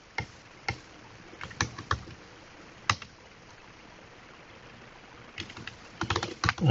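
Typing on a Mac computer keyboard while entering a terminal command to install Java, scattered sharp key clicks with a pause in the middle, then a quicker cluster of keystrokes, close and quiet.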